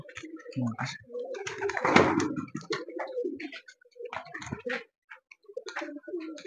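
Pigeons coo in repeated soft bursts nearby, with people talking over and between the calls.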